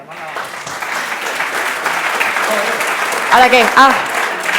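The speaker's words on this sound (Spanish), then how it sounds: "Un aplauso para él." An audience at a round-table event on privacy and data protection claps in steady, dense applause that runs throughout and swells near the end, with a speaking voice briefly over it.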